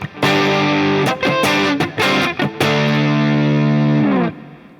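An electric guitar through an Avid Eleven Rack amp modeler plays distorted chords and a few choppy strums, loud and close, with a reverb tail ringing out at the end.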